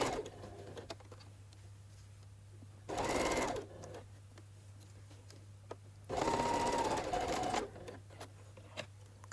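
A sewing machine stitches a decorative Christmas stocking in two short runs, a close, steady whirring buzz that starts and stops, with a low hum and quiet handling sounds in between.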